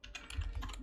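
Quick, light keystrokes tap on a computer keyboard in a brief, close, quiet burst with no voices.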